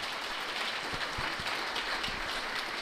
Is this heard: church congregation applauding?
yes